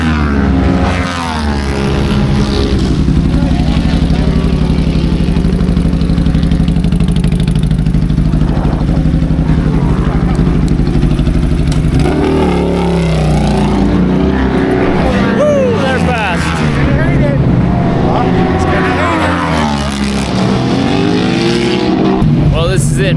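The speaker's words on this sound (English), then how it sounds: "The bikes are warming up." Race motorcycles warming up at a track, a dense, loud, continuous engine rumble with several machines revving up and down together, while a commentator talks over them.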